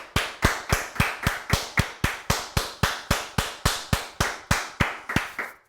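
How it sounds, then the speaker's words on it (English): A single pair of hands claps in a steady, even rhythm, about three sharp claps per second, close and clear with no crowd or voices. "So let's give them a fantastic big round of applause."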